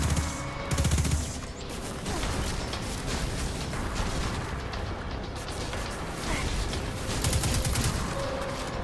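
Rapid gunfire in a video game aimed at a Hydra enemy, a dense continuous barrage of shots with heavier bursts near the start and end, loud and close with no talk over it.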